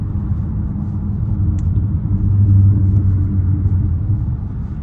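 Deep, steady engine rumble with exhaust burbles from inside a moving Dodge Charger SRT8, low and droning, swelling slightly louder partway through.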